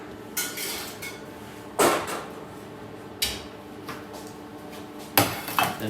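A small ceramic serving dish for brioche is picked up and set down, giving four or five sharp, close clinks and knocks against a hard surface. Quiet pauses separate them, and no one talks.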